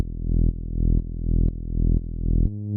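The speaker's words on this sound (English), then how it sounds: "All it is just a saw wave going into a low pass filter," Simple synth bass made from a saw wave through a low pass filter, a loud, deep buzzing note repeating in swelling half-second pulses, each rising in loudness before cutting off, with a final held tone.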